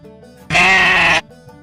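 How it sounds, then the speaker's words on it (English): A sheep bleats once, loud and close, in a single sustained wavering cry of about seven tenths of a second against a quiet background. "sheep"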